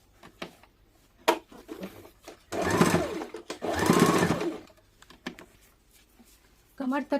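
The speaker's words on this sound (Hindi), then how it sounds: "थोड़ा गैप करके एक और सिलाई डाल देंगे" Domestic sewing machine running in two sustained bursts of a few seconds each while stitching a net-fabric umbrella baby frock, with someone talking briefly before, between and after.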